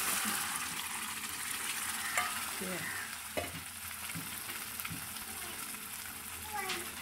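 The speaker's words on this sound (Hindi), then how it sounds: "मसाला हमारा भुन गया है, बड़ी अच्छी सी इसकी आवाज़ भी आ रही है आपको" Spice masala sizzles and fries in a pan, a steady broadband hiss throughout with occasional scraping stirs and small clinks, quiet and close, with a faint voice in the background.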